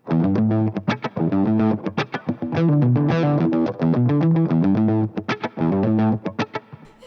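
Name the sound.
electric guitar riff with distortion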